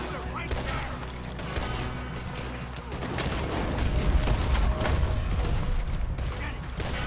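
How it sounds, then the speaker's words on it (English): Rifle shots crack out in a chaotic Red Dead Redemption 2 gunfight, rapid overlapping gunfire building louder through the second half amid a busy, dense battle din. "Espérate, que voy a utilizar el rifle."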